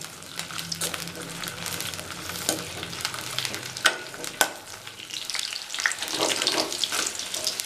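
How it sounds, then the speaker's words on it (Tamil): Brinjal (eggplant) sautés in oil in a pan over a medium flame, producing a steady close frying hiss broken by spatula scrapes and a couple of sharper clatters, with no talking. "ஒரு மீடியம் ஃப்ளேமில் வச்சு இதை நல்லா வதக்கிக்கலாம்."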